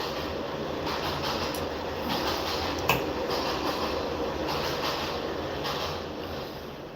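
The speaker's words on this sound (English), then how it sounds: "Hold on this damn train." A train rumbles past in a steady, continuous roar that holds fairly loud throughout, with a brief clank near the middle.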